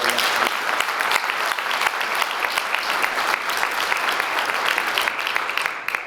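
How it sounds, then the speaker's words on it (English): Sustained audience applause at a RISECON conference, a dense wash of clapping from a large crowd honoring speakers and sponsors, steady and even throughout before tapering slightly at the end. "I can get a rousing round of applause for our speakers and our sponsors"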